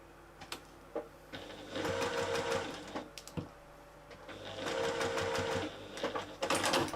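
A sewing machine back stitches a small handmade bag in quick bursts, two clear runs of rapid mechanical stitching close by, separated by short pauses with light handling clicks.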